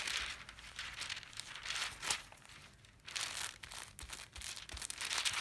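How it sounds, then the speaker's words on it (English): Foil is pressed down and smoothed onto a warm surface, giving close, soft crinkling and crumpling in uneven bursts with brief quiet gaps, faint overall and with no talk. "lay your foil down, heat your surface"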